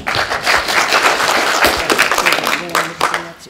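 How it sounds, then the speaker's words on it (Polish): Warm applause for couples celebrating their 50th wedding anniversary, a loud dense round of clapping from a hall audience, with faint voices and a brief tone appearing toward the end. "Myślę, że jubilatom należą się wielkie brawa."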